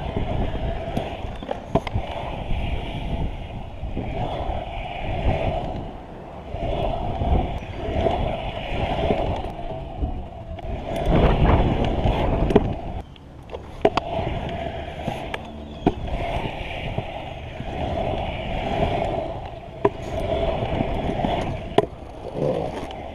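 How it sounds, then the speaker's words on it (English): Pro scooter rolling and carving around a giant vertical skate bowl, a continuous gritty wheel roar that swells and fades with each pass, with sharp clacks of landings and deck impacts at intervals, close and loud. "Let's ride this giant vert bowl."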